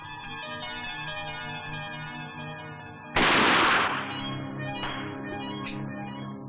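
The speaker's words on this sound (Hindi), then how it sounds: "इस अनार पर निशाना लगाओ।" A single loud, sharp gunshot, fired at a pomegranate target in a Hindi film scene, bursts over ongoing music, followed by a couple of fainter cracks as the music continues.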